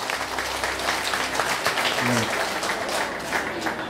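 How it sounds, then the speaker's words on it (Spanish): A crowd at a municipal political gathering in Oporapa applauds to welcome a speaker to the front, giving a sustained stretch of mixed clapping with some faint background sounds underneath. "lo recibimos con un fuerte aplauso"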